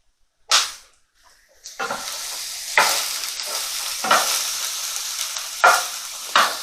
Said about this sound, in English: Just cooking the mushrooms.